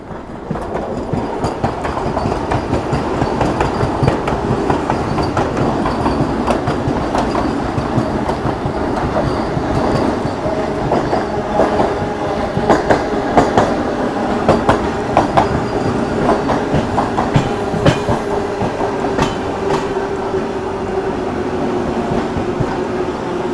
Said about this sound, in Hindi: यहाँ सामने से आती हुई न्यू दिल्ली वाराणसी वंदे भारत एक्सप्रेस